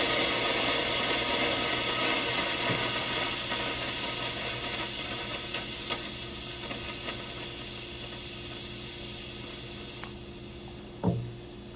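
Steady broadband hiss of steam venting from the steam boiler of a dual boiler espresso machine as it drains, loud and continuous, slowly easing off, with a few faint clicks and a brief thump near the end.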